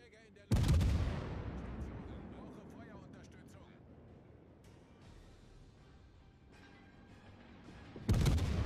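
Heavy naval gun salvos from a Königsberg cruiser in World of Warships, one deep booming blast that rolls off slowly, a second salvo closing the stretch, with someone talking in German in between.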